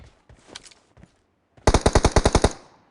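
Rapid burst of about ten loud automatic gunshots in a shooting video game, sharp and evenly spaced, following a few scattered quieter shots and faint sounds.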